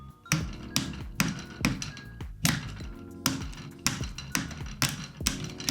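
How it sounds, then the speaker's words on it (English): About a dozen sharp, close taps drive a pin out of an airsoft gun's handguard. They come in an uneven rhythm with short pauses between strikes. "in order to do that, we're actually gonna need to knock out this pin"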